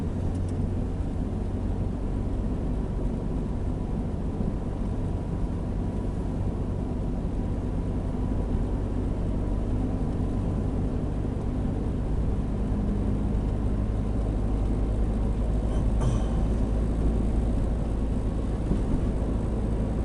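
Nissan Primera climbing uphill in fourth gear on a road between Krioneri and Tatoi, its steady engine drone and road rumble holding constant and close for the whole stretch, with no voices.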